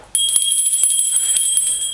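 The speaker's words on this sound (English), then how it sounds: "before we start talking about Pope Francis, you have a lovely bell there that I haven't seen before" A small hand bell, brought back from the Holy Land, is struck once and rings out close and loud with a bright, sustained metallic tone that keeps shimmering with faint repeated strikes.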